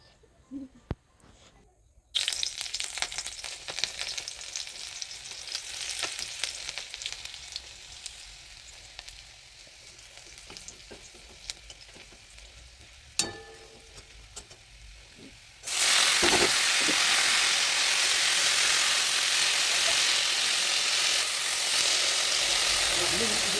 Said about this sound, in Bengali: শাকটা ভাজা হচ্ছে